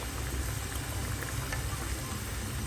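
Fish frying in cooking oil, a steady dense bubbling hiss with heavy low rumble that holds evenly throughout, close and fairly loud with no talk.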